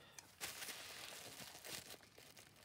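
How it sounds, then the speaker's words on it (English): Plastic bubble wrap crinkles and rustles as it is pulled off craft supply packs during an unboxing, a close, quiet series of crackling handling sounds. "I might just unwrap the bubble wrap off of both packs"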